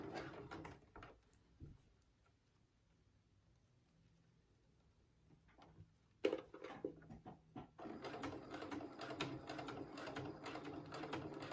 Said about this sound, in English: We're going to sew. And it's just this very straight stitch.